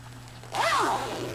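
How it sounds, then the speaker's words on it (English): A zipper is pulled shut on a small bag: a short, close rasping slide after a quiet moment, soft and alone. "and zips with the zip"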